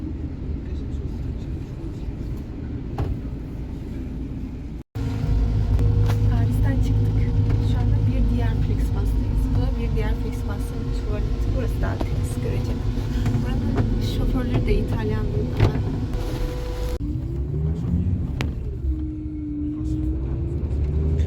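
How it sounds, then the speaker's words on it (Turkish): Airport bus passing along a Brussels street amid city traffic, a steady loud engine rumble with a low drone rising and falling, near and continuous, with people talking over it. "Biraz önce geçti havaalanı otobüs."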